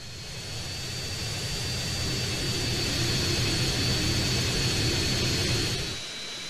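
Steady jet airplane engine roar in the video game GTA San Andreas, a loud continuous broadband rumble with a high whine, holding level for about six seconds before dropping off abruptly near the end.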